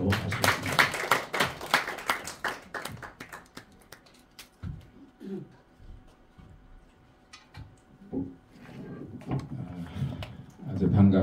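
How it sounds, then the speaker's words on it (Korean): Church congregation claps in welcome at a worship service, a burst of hands in the first few seconds that thins into scattered claps, then a voice begins speaking in a quiet room. "우리 박수로 환영하도록 하겠습니다"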